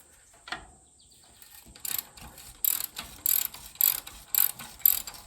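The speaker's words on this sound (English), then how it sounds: "I'll just loosen them all up so things will come apart easier." A hand ratchet loosening bolts on a Jaguar independent front suspension, clicking in a steady series of six or seven sharp, close ratcheting strokes after a single knock, with no talking.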